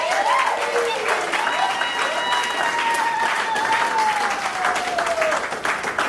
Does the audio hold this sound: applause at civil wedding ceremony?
yes